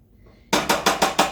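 Beans are stirred into cooked ground meat for taco salad with a spoon scraping a pan in five quick, even strokes. The scrapes are close and fairly loud after a brief quiet start.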